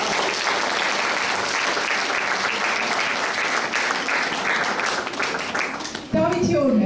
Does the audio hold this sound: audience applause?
yes